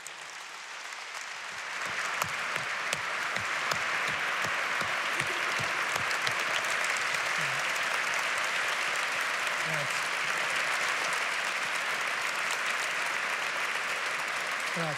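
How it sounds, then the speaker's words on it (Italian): An audience breaks into sustained applause welcoming piano maker Luigi Borgato, starting after a couple of seconds of near quiet and holding at a dense, even level, with a few louder claps near the front. "vi pregherei di accoglierlo con un applauso"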